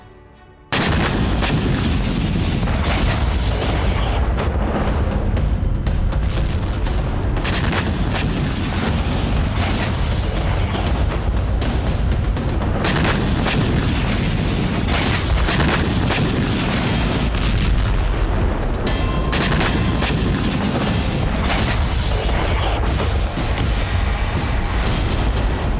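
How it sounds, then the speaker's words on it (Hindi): Artillery explosions and gunfire in Yevpatoria, Crimea: a dense, continuous barrage of booms and cracks, loud and sustained for the whole stretch after a brief quiet start. "क्रीमिया के येवपतोरिया इलाके से आई बारूदी बवंडर की ये तस्वीरें।"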